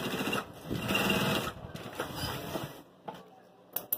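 A domestic sewing machine runs a short backstitch on fabric for an office document folder with a pocket, its motor whirring steadily for about three seconds before slowing and stopping, followed by a couple of faint clicks.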